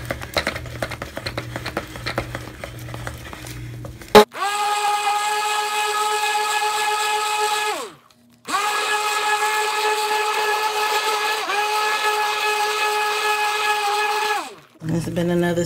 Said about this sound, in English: And if y'all don't know who Bella is the stick blender.